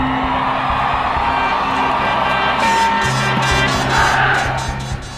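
A crowd at a political rally in Mexico whoops and cheers, a loud, close mass of yelling voices with a sustained roar and scattered shouts, alone without any narration.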